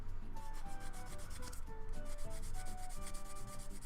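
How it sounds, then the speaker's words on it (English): Small plastic Gundam model kit parts are sanded by hand with continuous, even rubbing strokes. The sound is close, quiet and steady, with no talking. "Sanding them down for a little bit."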